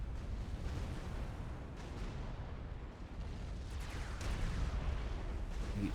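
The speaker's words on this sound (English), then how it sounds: "that is the sound of a battleship" Battleships firing in the strategy game Supreme Commander, heard as dense, continuous low rumbling booms that swell slightly louder near the end.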